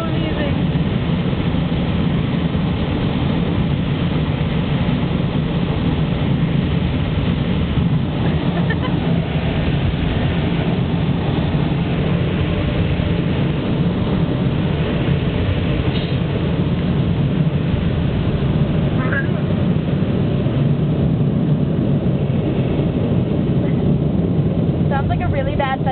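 Automatic car wash spraying and scrubbing a truck, heard from inside the cab as a loud, steady roar of water and brushes that continues throughout, with people talking now and then underneath.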